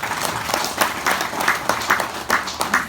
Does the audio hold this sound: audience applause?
yes